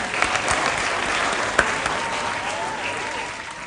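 At a school quiz competition, the audience breaks into a steady, dense round of applause from a mid-sized crowd, with one sharper clap standing out midway.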